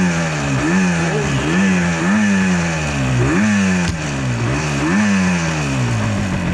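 A 49-year-old two-stroke motorcycle engine rides down the road, loud and close, its buzzing note rising and falling repeatedly as it accelerates through gears, with no talking.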